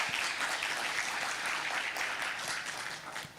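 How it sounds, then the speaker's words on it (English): A conference audience gives a keynote professor a round of applause, with dense, steady clapping from many hands in a large hall. It stays even and moderately distant, then fades slightly at the end, and nobody speaks over it. "One more time, please give a round of applause to Professor Bangchul Kim."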